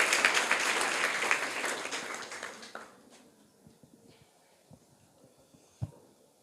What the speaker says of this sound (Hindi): सही जवाब था, इनके लिए तालियां बजाइए।